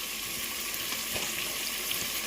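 Chicken sizzles in a pan with melted onion, garlic and biryani masala, a steady close frying crackle that holds evenly throughout.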